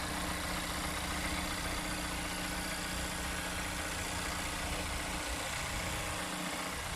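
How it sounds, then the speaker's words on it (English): A 2017 Mazda CX-9 engine idles steadily and smoothly at close range under the open hood, a low continuous hum with no revving. "Engine sounds smooth."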